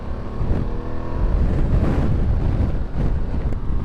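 A 2025 Ducati Multistrada V2 motorcycle pulls hard out of corners on a technical road, its engine a steady, loud drone under heavy wind buffeting for the whole stretch, no voices.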